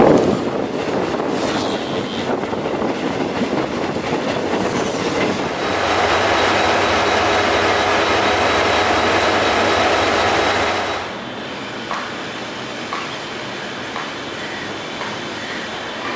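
A shuttle train running from Woodlands to JB Central rumbles steadily along the track, with wheel noise and a low hum that swells midway before easing into quieter rolling.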